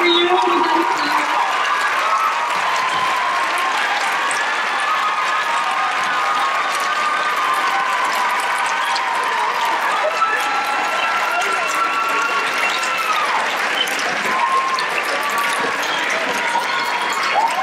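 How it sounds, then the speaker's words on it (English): Sustained applause from a school audience at an international night performance, steady clapping with some cheering filling the room, loud and continuous throughout with a little talk underneath. "So Rachel, guys, give her a round of applause."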